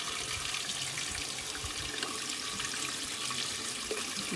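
Rainwater pours steadily into a container during restoration work on a Series 1 Land Rover 109, a continuous close splashing rush with no pauses and no voices.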